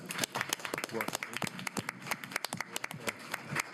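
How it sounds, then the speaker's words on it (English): Applause for an information technology team at a school board meeting, a short burst of scattered, fairly close clapping from a modest room of people. "Give them a round of applause for work."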